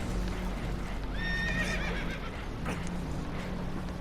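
Frightened horses on a boat that is taking on water in the video game Red Dead Redemption 2 let out a sharp whinny. Hooves shuffle and clop under a steady rushing background.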